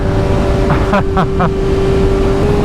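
A sport motorcycle engine accelerates hard, roaring loud and close with a steady high-revving drone and rapid pulsing shifts in pitch.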